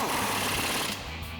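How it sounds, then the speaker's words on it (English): An impact wrench with a 19mm socket hammers a mounting bolt tight during a Toyota 4Runner Eibach Pro-Truck coil-over install, a loud rapid rattling burst close by that cuts off after about a second. "So we'll grab our 19mm socket on our impact and run this back in."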